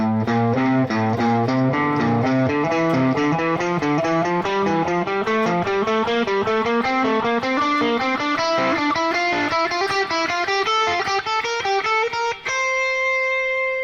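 An electric guitar climbs steadily through a scale in quick three-note groups, each pattern stepping up, ending on a held ringing note.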